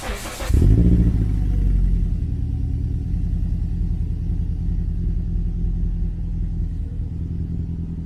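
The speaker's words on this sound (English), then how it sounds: "let's get a cold start." A Toyota Corolla engine cold-starts after sitting about a week: a sharp starter crank and catch, then a loud, steady, rumbling idle held close by for several seconds.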